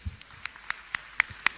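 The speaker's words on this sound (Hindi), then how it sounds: "आप पुण्यार्जक परिवार के लिए जोरदार ताली बजाकर सम्मान करें।" Sparse, slow hand claps ring out for a donor family at a religious gathering, about six distinct claps spaced evenly apart, fairly close and not a full crowd.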